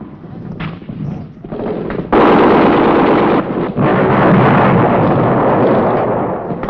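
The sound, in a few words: gunfire in 1966 Vietnam combat footage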